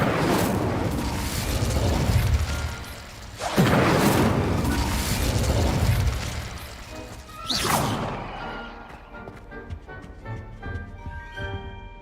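An Incendio fire spell in the video game Hogwarts Legacy bursts out as three loud whooshing, crashing blasts spaced a few seconds apart, followed by a crackling, ringing tail fading into quiet.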